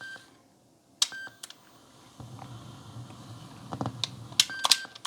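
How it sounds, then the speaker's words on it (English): A Sony WM-EX522 Walkman cassette player gives two short, clear electronic beeps, one near the start and one near the end, between soft mechanical clicks and handling noise. "now it just does 2 beeps"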